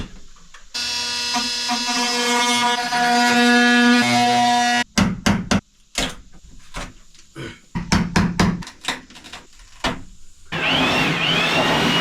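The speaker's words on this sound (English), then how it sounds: "So I do need to cut like at least an inch of a notch." A power cutting tool notches trailer material for a DIY air conditioner install, running as a loud steady whine for several seconds, then breaking into a series of short sharp bursts and cuts before one more sustained run at the end.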